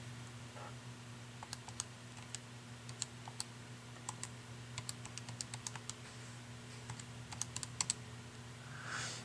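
Keys tapped on a calculator to enter numbers, a sparse series of crisp little clicks in irregular bursts over a steady low electrical hum, with no talking.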